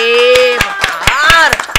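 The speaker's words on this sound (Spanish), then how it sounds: "muchísimas gracias, un aplauso pues." A few scattered hand claps close by, mixed with a voice and laughter, as applause closes a Spanish-language talk show.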